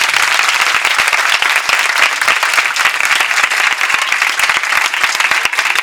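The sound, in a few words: congregation clapping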